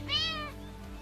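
One short meow from a cat sounds at the start, fairly clear and moderately loud, then fades into quiet background hum with no talking.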